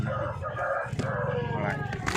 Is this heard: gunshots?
no